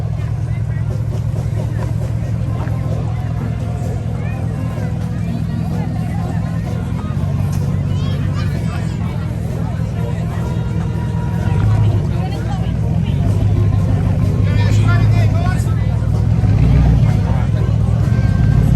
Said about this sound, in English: And here, folks, is Batman in the Batmobile. Here he comes.